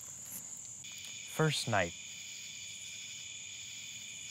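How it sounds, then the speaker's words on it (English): Cicadas at night in a quiet outdoor setting, heard as steady high-pitched droning that runs through the whole stretch, with a brief spoken remark in the middle. "Besides the cicadas, it's quiet."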